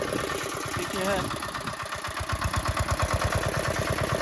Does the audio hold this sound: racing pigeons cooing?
no